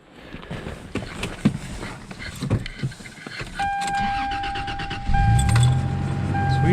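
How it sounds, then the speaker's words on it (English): Keys jingle and a door handle clunks before a pickup truck cranks and fires on a frozen winter morning, settling into a steady idle with a warning chime ringing over it and the engine rising slightly as it warms. "So I'm gonna go ahead and start the truck, get her warmed up."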